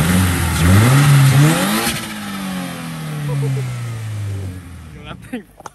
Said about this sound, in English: That thing flutters, guys.